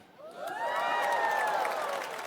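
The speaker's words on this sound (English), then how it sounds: "some of you are clapping" A stand-up comedy audience reacts loudly, with a swelling wave of clapping mixed with whoops and cheers that peaks and holds before starting to fade.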